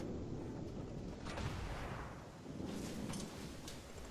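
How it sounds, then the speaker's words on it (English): Warship guns firing in the naval video game World of Warships, deep booming salvos over a rumbling background, two or three heavy bursts fairly faint in the mix. "So I begin opening up with my guns"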